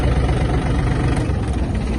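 A Yanmar AF-24 Japanese mini tractor's diesel engine idles with a steady, loud, close rumble throughout, with no audible change or voices.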